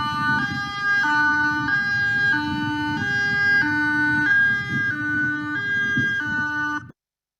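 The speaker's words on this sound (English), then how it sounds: "Hearing that siren is the equivalent of an immediate evacuation order." A loud two-tone high-low evacuation siren alternates steadily for about seven seconds, then stops abruptly.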